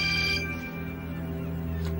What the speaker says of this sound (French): Réponds à ton portable